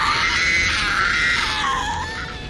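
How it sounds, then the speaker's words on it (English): A woman screams loudly and continuously, a shrill sustained cry that wavers in pitch and fades slightly toward the end, heard alone in a Star Wars audiobook dramatization. "the woman couldn't hear Emmy over her own screaming"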